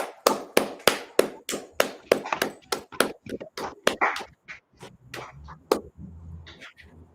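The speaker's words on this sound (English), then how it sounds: "All right, clap it up." A group of people at a gathering clap their hands in a fast, sharp rhythm, loud and close, the claps thinning out and trailing off toward the end.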